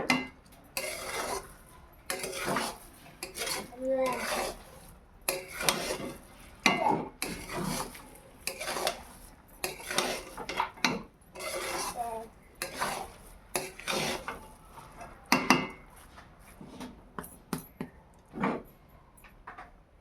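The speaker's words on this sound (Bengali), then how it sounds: "চিনি দিয়ে এইভাবে একটু নেড়ে নিতে হবে" A spoon stirring sugar into Gobindobhog rice pulao in a pot, steady close scraping and clinking against the metal in an irregular rhythm, with a faint sizzle underneath and no talking.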